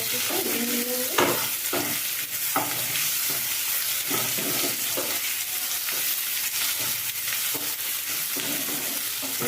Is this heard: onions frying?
yes